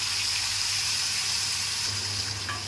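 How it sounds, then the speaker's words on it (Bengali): Marinated chicken pieces fry in hot mustard oil, giving a continuous, fairly loud sizzle with a steady crackling hiss throughout. "এবারে মাংসগুলো আমি গরম তেলে ছেড়ে দিলাম।"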